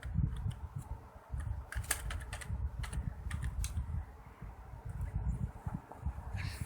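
Typing on a computer keyboard: a steady run of soft, close key clicks with brief pauses, carrying on without talk over a low background hum.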